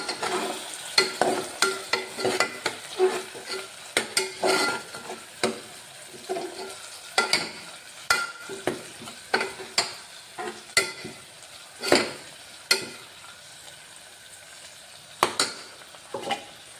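Onions with curry leaves, mint and coriander leaves frying in a pan for a kidney bean kurma, a spoon scraping and stirring in quick bursts over a steady sizzle.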